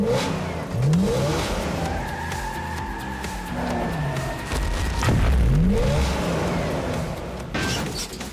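A cartoon toy car in Hot Wheels City reverses with its engine revving up and down in two loud surges, tires squealing briefly, with no voices.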